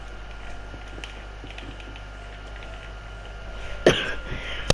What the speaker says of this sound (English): I really do apologize for my cough,